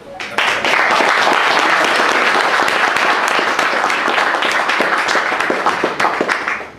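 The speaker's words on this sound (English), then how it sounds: "Give a round of applause for diversity." A crowd at a community forum breaks into sustained, dense applause, steady and loud throughout with sharp individual claps standing out, starting abruptly and tapering slightly at the end.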